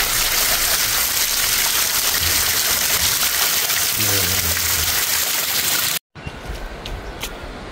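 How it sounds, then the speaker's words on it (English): Heavy rain pours onto a garden in a dense, continuous roar, close and loud, with a faint voice beneath it; the downpour then cuts off into quieter patter. "Rain. We don't want this stuff."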